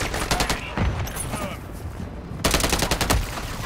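Heavy automatic gunfire in a video game firefight, sustained rattling bursts, a brief lull, then another loud close volley, with voices mixed in.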